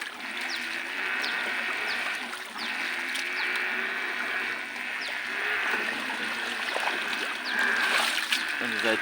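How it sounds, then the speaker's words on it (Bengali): Feet wade and splash through floodwater covering an undrained road, a steady churning slosh with scattered splatters that runs continuously and close by. "খুব কষ্ট করে পানির ভিতর দিয়ে এই যে পার হয়ে আসলাম"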